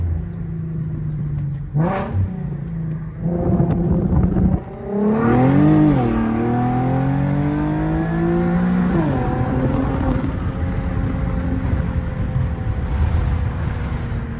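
Infiniti Q50 fitted with new intakes revving hard from the cabin, the engine note climbing in steep rising sweeps and then settling into a loud, sustained drone, with no talk.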